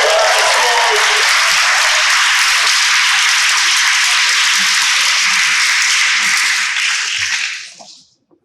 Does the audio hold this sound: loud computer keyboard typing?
no